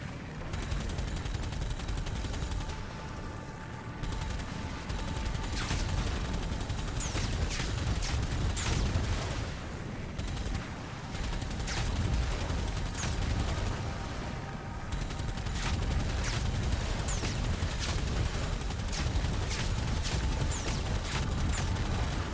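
Dense, continuous gunfire from DOOM: The Dark Ages rattles in loud rapid bursts for over twenty seconds, with brief lulls between volleys and heavy impacts layered through the barrage.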